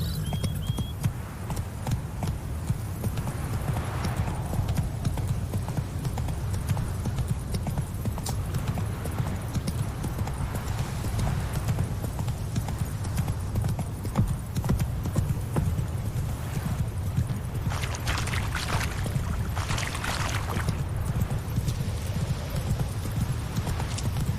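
Horse hooves clip-clop in a steady rhythmic gallop in The Witcher 3: Wild Hunt, continuing throughout over faint game ambience, with a brief whinny-like sound and no talking.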